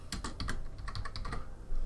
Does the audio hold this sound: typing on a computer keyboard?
yes